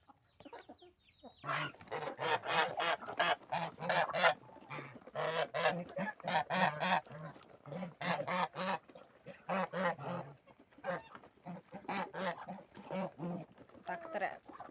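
White geese honk repeatedly alongside clucking chickens during evening feeding on a farm yard in Ivano-Frankivsk, western Ukraine, a busy overlapping chorus of calls in rapid bursts, with someone speaking over them.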